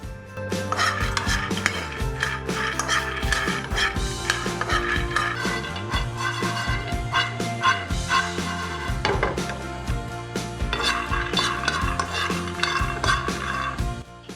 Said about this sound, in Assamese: এয়া হৈছে ভজা বাদামখিনি ইয়াৰ শব্দৰ পৰাই আপুনি গম পাইছে চাগে বাদামখিনি ধুনীয়াকৈ ভজা হৈ